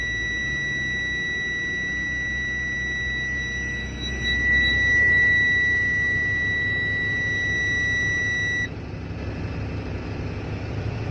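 A school bus's steady high-pitched low-air-pressure warning buzzer drones continuously over a low engine rumble during an air-brake test, then cuts off abruptly as pressure reaches about 55 psi, leaving only the idling hum.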